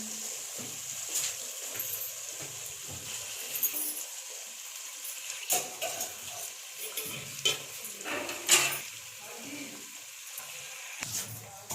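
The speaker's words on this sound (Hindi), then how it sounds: "अब हम इसमें शामिल करने जा रहे हैं बैंगन जो कि हमने फ्राई करके रखे थे। वन बाय वन अब इसमें ऐड करेंगे हम।" Fried eggplants go one by one into oil-separated masala, bringing soft continuous sizzling with scattered light clinks and scrapes of a spoon in the pan, heard up close and without speech.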